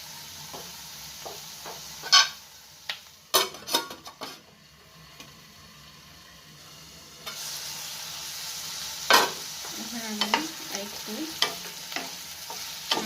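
Potato chunks and capsicum for a dry curry fry quietly in a pan, with intermittent scraping and clattering stirs against the metal over a low background sizzle.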